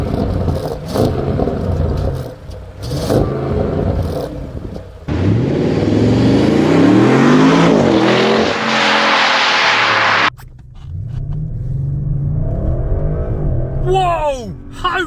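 A 441-horsepower Audi RS car accelerates hard with a loud rising engine roar that surges for several seconds and then cuts off abruptly, with someone talking before and after the run.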